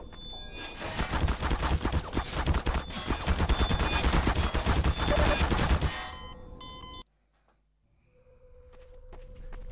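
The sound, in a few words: automated turrets firing in Half-Life 2 video game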